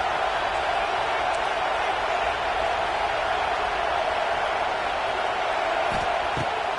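Football stadium crowd cheering as the home defense pins the opponent deep, a dense, continuous wash of crowd noise holding steady with faint whoops throughout.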